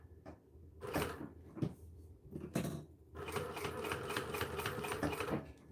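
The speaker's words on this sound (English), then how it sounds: "So I'm using the inner foot to stitch nice and close to the edge." A new sewing machine with an inner foot stitching slowly close to a fabric edge, starting and stopping in short bursts before settling into a steady, fast mechanical whir, near and clear.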